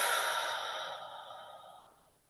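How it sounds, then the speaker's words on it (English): A long, slow exhale of deep breathing fades gradually through a yoga neck stretch, breathy and close, with no talking over it. "here we'll take 2 nice deep breaths together"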